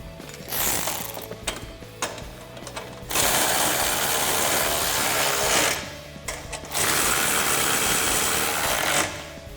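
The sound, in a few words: ratchet tightening bolts on Tacoma nerf step bars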